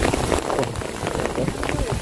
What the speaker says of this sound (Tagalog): Oh, lakas ng ulan.